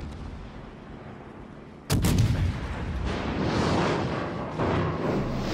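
Heavy naval guns boom in World of Warships, a battleship salvo striking near 1.9 seconds with a loud broadband blast, followed by sustained rumbling and roaring explosions through the rest of the clip, Bismarck among the ships firing.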